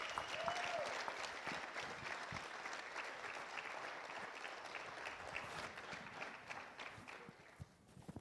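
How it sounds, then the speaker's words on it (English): Sustained applause from a crowd at a youth conference, dense clapping that holds steady and then begins to thin out toward the end. "One more round of applause, man."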